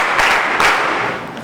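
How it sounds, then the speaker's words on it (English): A classroom of students claps in unison to praise a classmate's answer during a physics lesson, a few quick, loud bursts of hand claps close by. "Rubber, good. 3 claps for her."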